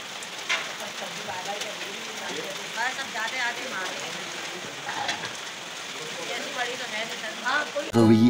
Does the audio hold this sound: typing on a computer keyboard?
no